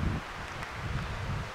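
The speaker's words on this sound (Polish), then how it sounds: "A wiatr coraz silniejszy." Strong wind gusting through a mountain forest during the deer rut, a steady rushing roar with leafy rustle, close and continuous with no break.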